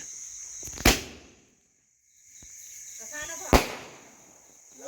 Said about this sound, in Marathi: आरवला काय फटाका लावायला जमाना